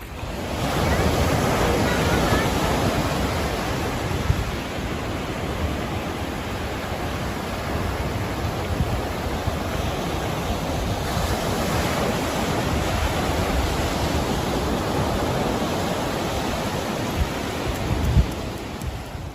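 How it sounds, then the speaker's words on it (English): Water of the South Toe River in North Carolina rushes steadily and close, a dense broadband wash like flowing river current with no pauses, alone without voices. "This water is from the South Toe River in North Carolina."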